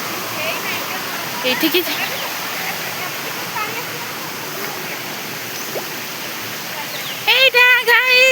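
Steady rushing roar of the waterfall at Asurkhol, constant and close, filling the scene while people talk over it and a brief higher voice cuts in near the end.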